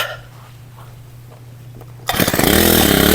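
A grass cutter engine bursts into life in a garden lawn after a quiet stretch with a low steady hum, then runs loud and rough right up close.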